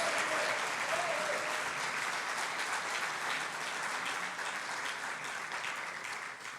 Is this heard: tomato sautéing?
no